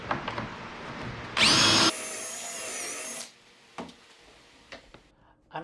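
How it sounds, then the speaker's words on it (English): A power drill drilling into wood whines loudly for about two seconds, then runs on at a steadier, slightly lower pitch before stopping, followed by faint clicks and handling noise. "So we'll go ahead and start drilling these."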